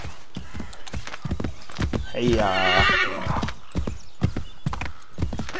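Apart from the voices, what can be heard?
horse hooves and neighing in video game Assassin's Creed 3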